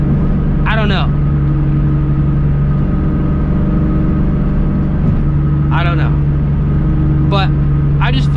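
A New Edge Mustang GT V8 with 4.10 gears drones loudly and steadily from its exhaust inside the cabin while driving, and a few brief bits of talk come over the engine.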